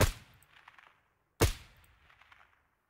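Two sharp gunshots from a rifle in the tactical shooter Ground Branch, fired about a second and a half apart, each with a loud crack followed by a fading echo tail.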